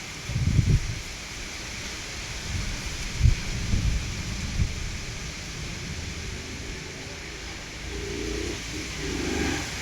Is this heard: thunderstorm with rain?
yes